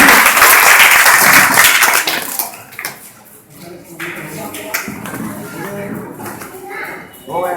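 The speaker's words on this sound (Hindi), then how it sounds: "एक बार उनके लिए भी जोरदार तालियां।" Loud applause from the crowd at an Ambedkar Jayanti gathering in Kailash Nagar, Ghaziabad, lasting about two seconds before tapering into scattered claps and quieter room noise with some voices.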